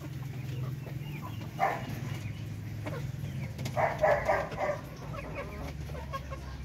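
Darag breeder chickens clucking in a yard, a few short clucking bursts against steady background noise, with a dog barking faintly at moments.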